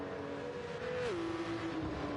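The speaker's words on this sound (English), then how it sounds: "Gear Kaler is revving it out." A race car engine holds a high, steady whine, then drops in pitch as it eases off, fairly close and alone without talk.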